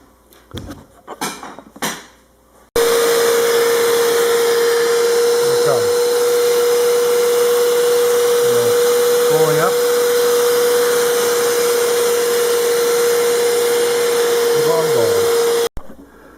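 A Bissell ProHeat carpet cleaner sprays and suctions dirty carpet: after a brief rustle, a loud, steady motor drone with a high whine runs close by for about thirteen seconds, then stops abruptly.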